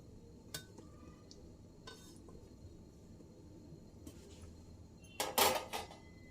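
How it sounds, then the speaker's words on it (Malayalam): Tomato pieces dropped into a pressure cooker in a home kitchen while making tomato ketchup: a few sparse metallic clinks, then a louder clattering burst near the end, with no talking. "ഇതിലേക്ക് നമ്മളുടെ ടൊമാറ്റോ പീസസ് എല്ലാം ഇട്ട് കൊടുക്കുകയാണ്."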